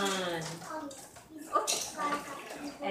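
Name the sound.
water splashing at a children's water table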